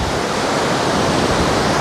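A waterfall in Pakistan pours out a steady, loud, unbroken roar of rushing water that fills the whole moment, with no voices heard.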